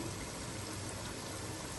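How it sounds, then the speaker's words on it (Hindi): Water pours into a cooking pot for chana rice pulao, a steady, faint, hissing gush that runs without pause. "अब यहाँ पे मैं पानी शामिल करूंगी"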